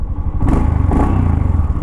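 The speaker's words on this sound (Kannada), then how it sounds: "ಇಂಜಿನ್ ಸೌಂಡ್ ಈ ಥರ ಕೇಳಿಸುತ್ತೆ" A 2025 Royal Enfield Scram 440 engine runs close up with a loud, steady, throbbing idle and a faint mechanical clatter, with no voices.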